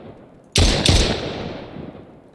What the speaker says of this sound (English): if we grab our pistol, you can see when I fire